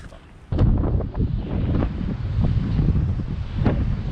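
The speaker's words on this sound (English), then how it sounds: "And it's quite windy today." Strong wind buffeting the microphone at Kullaberg, Sweden, loud low rumbling gusts that rise suddenly and keep roaring, with faint surf behind.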